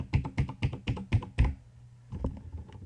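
Keys clack on a computer keyboard as an email address is typed: five crisp, evenly spaced taps, then a short pause and a few softer presses, close up and alone.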